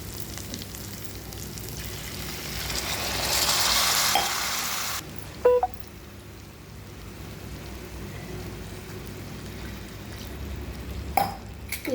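Vermicelli roasting in a pan for semiya upma, a soft continuous dry sizzle with faint stirring scrapes, swelling briefly then settling, a couple of sharp utensil clinks near the end.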